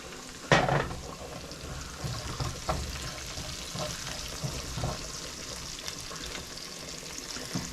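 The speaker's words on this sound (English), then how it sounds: "This is the kind of sizzle we're looking for there." Garlic sizzles and crackles steadily in oil in a pan after a sharp initial hiss, a continuous close frying sound with small pops.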